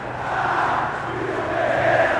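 Flamengo supporters in a football stadium chant about coach Vitor Pereira, a distant massed roar of voices holding a sustained drawn-out tone, rising slightly toward the end.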